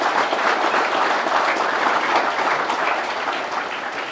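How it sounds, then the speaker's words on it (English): An audience claps steadily at a school commissioning ceremony in Fiji, a dense, even round of applause that fades slightly toward the end. "can I ask us to put a big round of applause for the Indian government"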